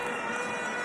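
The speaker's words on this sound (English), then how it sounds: "And a whistle on the floor." A referee's whistle shrills at a girls' under-15 basketball final, a sustained tone lasting under a second over the steady roar of the gym crowd.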